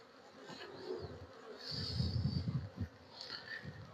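Honey bees buzzing around an open beehive during a frame inspection of a young colony, a soft continuous hum with a few louder passes close by.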